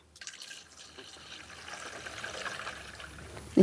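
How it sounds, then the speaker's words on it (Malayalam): Water pours steadily into a pot holding jackfruit, a continuous trickling splash at moderate level lasting throughout, with a sharper knock right at the end. "നമ്മൾ ചക്കയ്ക്ക് ആവശ്യമായിട്ടുള്ള വെള്ളം ഒഴിച്ചു കൊടുക്കാം"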